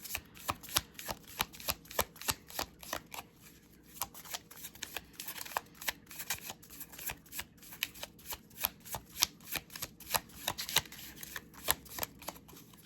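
Tarot cards shuffled by hand in quick, repeated riffles and snaps, close and crisp, with steady bursts running throughout and no speech.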